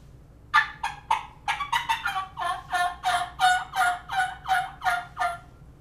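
Turkey diaphragm call with an A-frame reed blown by mouth, producing a run of about a dozen sharp yelps, quick at first then settling into an even rhythm, loud and close.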